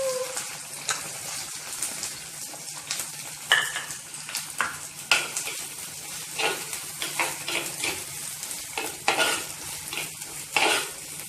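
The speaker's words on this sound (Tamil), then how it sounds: "இப்போ நறுக்கி வச்சுட்டு வெங்காயத்தை சேர்த்துக்கலாம்." Chopped onions stirred and frying in a pan of hot oil with dried red chillies, green chillies and curry leaves for a bitter gourd fry, giving a steady close sizzle broken by repeated scraping stirs of a spoon against the pan.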